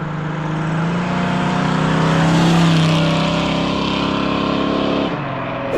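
A 1968 Chevrolet C10 short-bed truck with a 496ci stroker engine drives along, its loud, steady engine drone swelling slightly mid-way before easing off near the end, with no talking.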